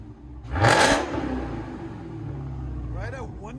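A 2019 Dodge Charger Hellcat with Flowmaster Outlaw exhaust barks out a sharp, loud rev burst, then settles into a deep, rumbling idle close by, with a brief voice near the end.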